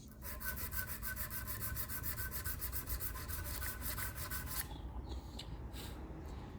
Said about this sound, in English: I'm just going to gently sand this. This is 360 grit sandpaper.